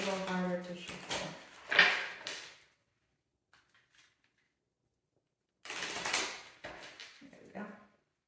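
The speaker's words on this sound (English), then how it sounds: "Round decks make it a little harder to shuffle." A round tarot card deck being shuffled, heard as close, papery riffling and clattering bursts after a brief stretch of talking and a quiet pause.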